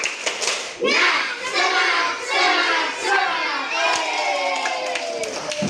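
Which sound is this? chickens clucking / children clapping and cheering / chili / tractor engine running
children clapping and cheering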